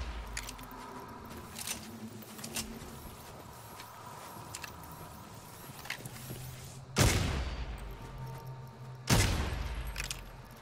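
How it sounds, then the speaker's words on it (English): Gunfire rings out in the first-person shooter video game Redfall: scattered sharp shots crack through the first half, then two heavier, louder blasts land close together near the end, with faint rattling between them. "What are you shooting at, David?"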